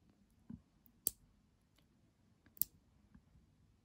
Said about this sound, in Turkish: Bundan da kesmek istediğim kadar kısmını ayarlayıp ona göre kesiyorum